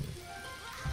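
Rain in the video game Scribblenauts Unlimited, a soft steady hiss of falling drops that runs through the whole moment, with a low thump near the start and end.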